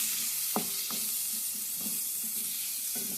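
Tomatoes sizzle and fry in a pan for a gongura (sorrel leaf) curry while a utensil stirs them in several scraping strokes over a steady hiss, close by with no voices.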